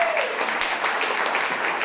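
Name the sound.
audience applause for comedian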